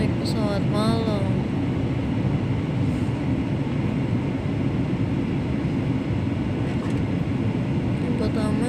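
Steady, loud, broadband roar of an airliner cabin on a night flight from Jakarta to Pontianak, a constant low hum that runs unbroken throughout, with a brief voice near the start.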